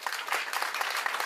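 Brief, fairly faint applause from mourners at the memorial service for uMaqhude Mkhize, a short patter of many hands clapping together.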